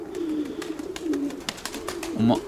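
Pigeons coo softly nearby in a few low, throaty bursts, with light rustling and scattered clicks in between; the birds include grey and white-tailed pigeons.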